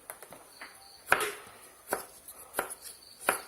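A knife chops Hong Kong kale steadily on a cutting board, crisp irregular thuds close up with short pauses between strokes, no talking.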